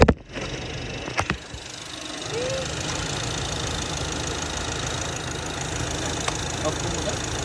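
A machine engine hums steadily and close after a few sharp knocks at the start, running without change until the clip ends; faint voices now and then.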